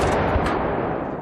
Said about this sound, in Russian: Выстрел! Огонь!